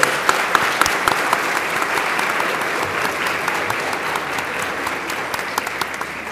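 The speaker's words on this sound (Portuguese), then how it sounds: "uma salva de palmas para a secretária Marta Suplicy." A lecture audience gives sustained applause to honor a guest speaker, a full, even roar of many hands clapping with a few sharper close claps standing out, continuing throughout.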